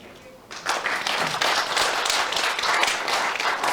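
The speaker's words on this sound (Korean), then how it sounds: "우리 리 벤슨 다시 한번 박수 부탁드리겠습니다" Seminar audience bursting into applause at the end of a talk on aerial wildfire firefighting, a sudden swell of many hands clapping that holds steady and loud after a brief quiet lead-in.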